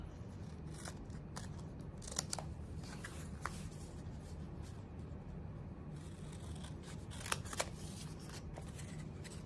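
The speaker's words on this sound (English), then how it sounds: "I'm just going to put these on top of each other and cut these corners both out at the same time." Scissors snip through the corners of two stacked sheets of paper for a scrapbook page, giving several soft, quiet crisp cuts spread out over a low steady room hum.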